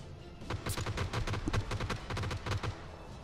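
Rapid bursts of gunfire from the PUBG battle royale game, with many sharp shots in quick succession at fairly close range and no talk over them.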